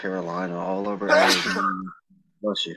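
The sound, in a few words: sneeze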